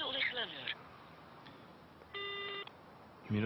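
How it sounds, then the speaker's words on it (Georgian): A single steady electronic voicemail beep, about half a second long, follows an unavailable-subscriber message. A voice speaks before and after it. "სიგნალის შემდეგ დატოვეთ შეტყობინება."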